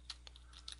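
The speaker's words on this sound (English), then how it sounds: "And then you can type in" Fingers tap a computer keyboard in a few quick, quiet keystrokes, light clicks spaced irregularly over under a second with no talking.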